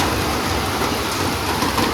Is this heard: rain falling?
yes